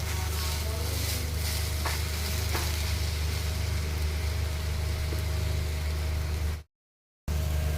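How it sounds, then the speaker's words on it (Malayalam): Beetroot thoran being stirred in a hot pan, a steady dense sizzle with a low hum underneath and a few soft scrapes, cutting out briefly before resuming. "ഇനി നമുക്കിതിനെ ഇളക്കി യോജിപ്പിക്കാം"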